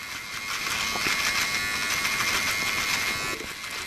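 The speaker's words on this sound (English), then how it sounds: "I can definitely hear it cutting when it actually does hit the blade." An electric trimmer buzzes steadily, its whirring broken by faint rough grinding as it chews through thick artificial turf, close by.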